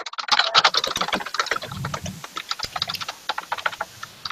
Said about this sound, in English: I can still hear you typing.